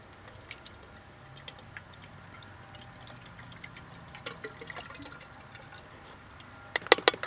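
Ice Mountain bottled water pouring into a Kelly Kettle, a soft continuous trickle with faint splashes, then a few sharper louder spatters near the end, heard alone at close range.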